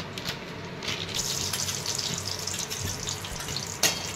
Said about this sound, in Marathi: काजू परतून घेते थोडेसे